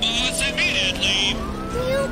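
A cartoon police car siren wails with a rising and falling tone under animated voices and busy background sound, near and loud throughout.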